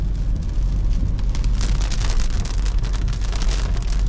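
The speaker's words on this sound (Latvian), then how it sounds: "Gāziens bija ne pa jokam." Heavy rain pours down in a steady, loud roar on a road trip between La Spezia and Rome, with dense broadband hiss and no gaps throughout.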